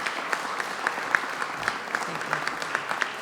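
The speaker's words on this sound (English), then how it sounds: "Let's give him a round of applause." A crowd at a gala celebration claps steadily, a sustained patter of applause from many hands.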